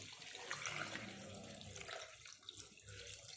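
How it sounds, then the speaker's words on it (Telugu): Water poured steadily into a pot of mutton bones for bone soup, a continuous splashing, gurgling flow heard close up and alone, easing slightly near the end. "1 లీటర్ పోసుకోవచ్చండి వాటర్."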